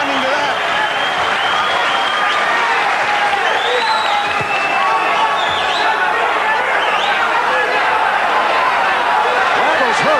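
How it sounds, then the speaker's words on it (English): A boxing crowd at a Rosario vs Randall fight roars in a steady, loud, continuous wave of cheering and applause, reacting to hard right hands landing, with no individual voices standing out. "Crowd responding to that."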